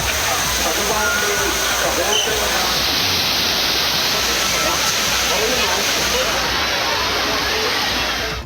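Thirparappu waterfall in Kanniyakumari pours down as a crowd bathes beneath it. A loud, continuous roar of falling and splashing water fills the scene, with a voice speaking over it.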